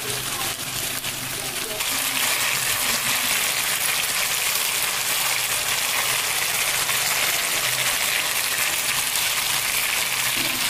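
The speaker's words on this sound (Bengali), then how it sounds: "এখন ঝোলের জন্য জল দিয়ে দেব" Water poured into a pan of simmering fish curry to make the gravy, a loud continuous gushing splash lasting several seconds, up close with no voices.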